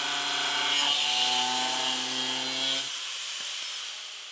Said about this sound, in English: cutting a precise slot with an angle grinder is not very precise